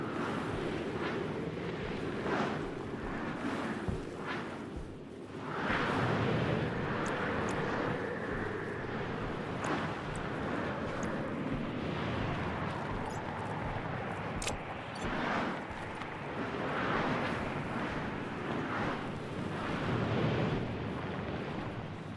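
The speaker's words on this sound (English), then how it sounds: "How a storm hit is not the greatest." Storm winds roaring across a planet surface in the game Stationeers, a loud continuous rushing gale that surges and eases in waves, with no talk.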